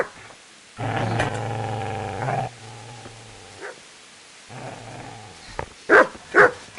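A dog in the medieval game Kingdom Come: Deliverance growls and snarls at close range in long rumbling bursts, followed by a few sharp barks near the end, with no talking over it.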